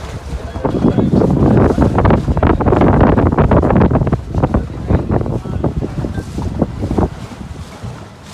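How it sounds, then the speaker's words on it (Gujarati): A motor boat setting off across Fateh Sagar Lake in Udaipur with a group aboard, its engine drone mixed with loud wind buffeting and water noise, steady at first and then gusting. "ફાઇનલી ફાટા કરતી અમારી બોટ ઉપડી ગઈ"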